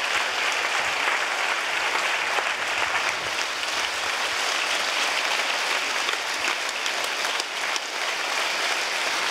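Sustained, dense audience applause for film guests at the opening of a film festival, a steady wash of many clapping hands filling the room without a break.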